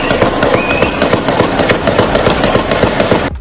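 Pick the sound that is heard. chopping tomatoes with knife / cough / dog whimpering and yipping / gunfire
gunfire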